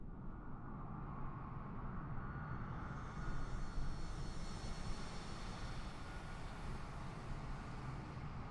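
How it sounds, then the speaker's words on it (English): An AI-controlled airplane descends toward an airport in Microsoft Flight Simulator, its steady engine roar faint and smooth, swelling slightly midway and then holding, with no talk. "Do we have an actual AI aircraft coming in?"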